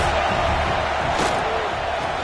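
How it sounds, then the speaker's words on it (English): A stadium crowd at an American football game roars in a dense, unbroken wall of noise, loud and close throughout. "This crowd trying to make life miserable for this offense."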